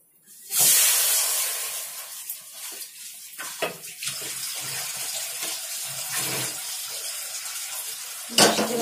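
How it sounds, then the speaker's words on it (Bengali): A blackened kadai (wok) being scrubbed clean under a running tap after frying potatoes, a steady hissing gush of water with scattered knocks and scrapes of metal, loud bursts at the start and near the end. "কড়াইটা একটু ধুয়ে আনি পরিষ্কার করে।"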